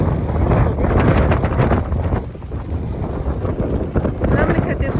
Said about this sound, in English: it's crazy windy here